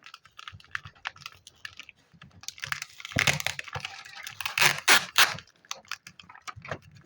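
A Dubai chocolate bar is unwrapped up close: rapid crinkling and crackling of the wrapper in dense bursts, growing louder and busier midway, with no talking.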